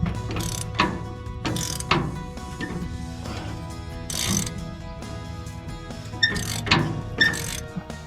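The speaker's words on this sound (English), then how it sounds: "that rivet tool is pushing that old rivet out, and as I tighten more on that, that pin will just push it all the way out" A rivet tool with a 3/4 inch socket is tightened to press an old rivet out of the sickle bar blade of a New Holland 485 haybine. Repeated ratcheting clicks come in bursts, close and fairly loud, with no talk.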